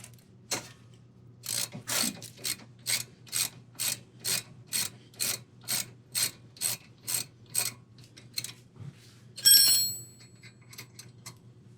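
A ratchet wrench clicks through about fifteen quick, evenly spaced strokes while loosening 13 mm and 15 mm brake caliper bolts on a Jeep Wrangler, close and clear, ending with a brief metallic clatter and a few scattered clicks.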